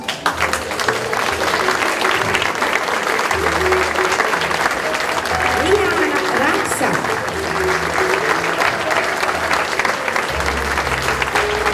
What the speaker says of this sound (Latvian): atkal ar aplausiem sveiksim pedagogus un darbiniekus